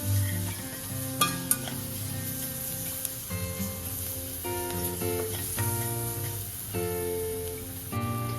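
Spices and onion roast in a pan for a bread-free sandwich, giving a steady close sizzle and frying crackle with intermittent stirring scrapes throughout, without voices.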